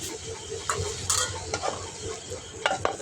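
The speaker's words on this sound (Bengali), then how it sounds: "তো এই তো সবজিটা আমি ভালোভাবে কষাই নিতেছি।" Vegetables stir-fried in a pan, with a steady close sizzle and repeated scraping strokes of a spatula across the metal surface throughout.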